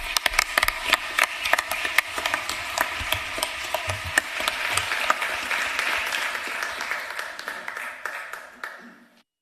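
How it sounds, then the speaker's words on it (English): Crowd applause at a Guilford County Board of Commissioners meeting, honoring park staff and supporters: dense, steady clapping with sharp individual claps, sustained for about nine seconds before fading out at the end. "Let's give our park staff and supporters a round of applause."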